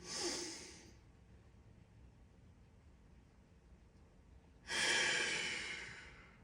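Two long, deep breaths drawn in during an upper-body workout, each a breathy rush close to the mic that fades slowly, with a quiet gap between them.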